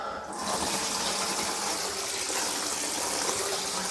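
The cold tap of a 1995 Abbey 416 Vogue GTS touring caravan runs into its shower tray, a constant, fairly soft hiss of flowing water heard up close and alone.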